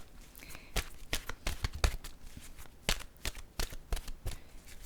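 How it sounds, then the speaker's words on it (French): Oracle cards being shuffled and drawn by hand, a run of quick crisp riffling slaps and flicks in an irregular rhythm, close and fairly loud, with no speech. "je vais plutôt piger une carte maintenant de mon oracle de l'âme intuitive"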